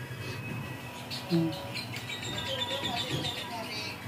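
Bird chirping at a market, short bright tweets rising above a bustling background of voices and street noise, with one sharper call standing out briefly.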